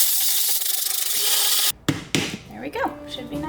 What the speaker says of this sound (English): I'm gonna take a little bit of rice and whir it around to get